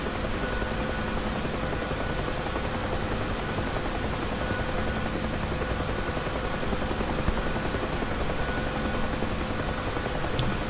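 A Huey helicopter on a runway in the DCS flight simulator gives a constant, dense rotor and turbine roar at steady loudness with no pauses and no talk.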